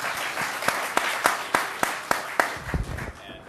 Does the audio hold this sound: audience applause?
yes